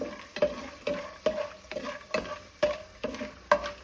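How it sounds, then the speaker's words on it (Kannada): Poha (flattened rice) sizzles in a pan while a spoon scrapes and stirs in a regular rhythm, about twice a second, close and clear, frying until crispy. "ಇದು ಕ್ರಿಸ್ಪಿ ಆಗೋ ತನಕ ಹುರ್ಕೋಬೇಕು"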